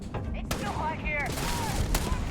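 Gunfire in the video game Starfield, loud rapid bursts of shots under and between in-game voices shouting orders during combat.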